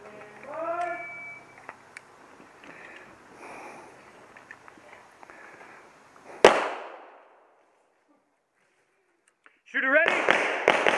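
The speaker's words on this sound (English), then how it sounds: "Just don't shoot a hole through that barricade, Bob" A single sharp gunshot at a shooting range, fired from behind a barricade, bursts out loud mid-clip and decays, with faint voices and a quiet pause before more noise.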